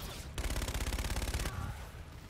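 Rapid automatic gunfire from an assault rifle in a first-person shooter video game, a burst of about a dozen quick shots lasting roughly a second, fairly loud and with no talking.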